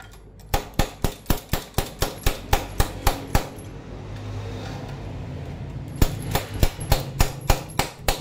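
A slide hammer pulls the camshaft from a Honda Megapro Primus motorcycle engine with a rapid run of about a dozen sharp metallic knocks. After a short pause, a second burst of evenly spaced strikes follows, close and loud.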